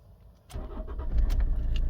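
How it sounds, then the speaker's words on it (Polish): A 2009 Toyota Verso 2.2 diesel automatic cranks and catches, its engine rising to a steady, close idle after a quiet start with a faint jingle of keys. "Już odpalimy autko."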